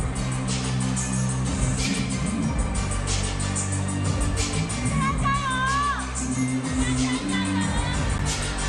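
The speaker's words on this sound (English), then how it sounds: "you can already hear the crowd start to shout for the world number 1" An arena crowd at the WTT Europe Smash 2025 women's singles table tennis semifinal shouts for Sun Yingsha, making a continuous, dense roar of voices. A commentator's voice carries over the crowd throughout.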